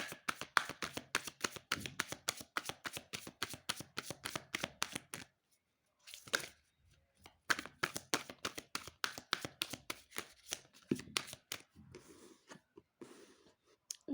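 Tarot cards shuffled and handled in quick rhythmic bursts of crisp taps and riffles, close and fairly quiet, breaking off briefly partway before the handling resumes; no one speaks.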